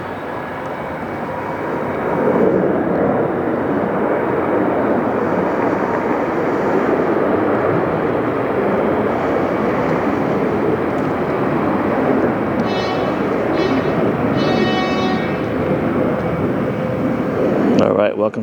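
A CFM-engined airliner roars at Detroit Metro airport, a steady broad engine rumble and whine sustained for the whole stretch, loud and continuous with no talk over it.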